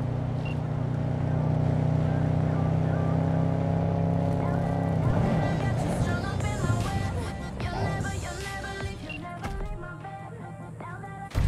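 A vehicle engine hums steadily in the video game Cyberpunk 2077, a low sustained drone that shifts midway into busier, fluttering engine and game sounds, with voices talking over it throughout.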